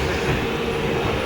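A running train heard from inside, a steady low rumble and rattle of the carriage on the rails, close and constant for a brief moment.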